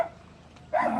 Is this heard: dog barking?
yes